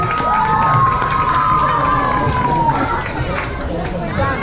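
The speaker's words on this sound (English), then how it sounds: "One more big round of applause to Prishni Mataji and her class children." A temple crowd at a Janmashtami festival cheers and shouts steadily, with children's voices prominent, while a sustained tone runs beneath the noise for several seconds.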